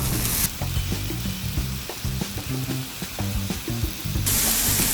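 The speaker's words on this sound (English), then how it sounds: "About 3 to 4 minutes is what it probably takes to get this pork all cooked up." Chorizo pork fries in a pan over medium-high heat, a steady close sizzle and crackle with soft scraping stirs punctuating it, and no talking.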